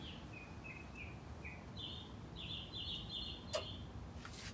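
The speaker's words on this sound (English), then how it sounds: "Birds are singing." A bird sings a series of short whistled phrases, moderately close over a quiet outdoor background by a succulent greenhouse, with a brief sharp click near the end.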